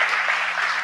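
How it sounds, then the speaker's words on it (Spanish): A brief burst of clapping from an audience at a Latin American church conference session on synodality and theology, a dense, even rush of hands heard for under a second, fairly loud with a low hum beneath. "Un aplauso, le vamos a dar un aplauso"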